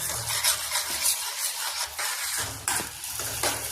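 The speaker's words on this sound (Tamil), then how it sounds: "நம்ம பொரியை இதில் போட்டு கிண்டிகிட்டே இருக்க வேண்டியதுதான்." Puffed rice is stirred through thick syrup in a pan for pori urundai, making scraping, rustling sounds with a faint sizzle and occasional clinks of the utensil, close by and with no voices.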